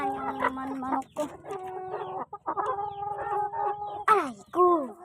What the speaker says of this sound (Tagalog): Dito ay mga manok ko.